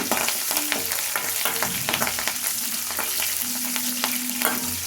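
Curry leaves frying in hot oil for rasam give a loud, steady sizzle and crackle, with light stirring scrapes throughout and no voices.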